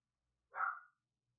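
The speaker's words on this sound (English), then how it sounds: "My dog is barking." A single short dog bark sounds close and alone in an otherwise quiet indoor room.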